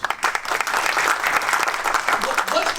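An audience applauds a speaker at a business talk, steady dense clapping filling the space at an even level for a few seconds.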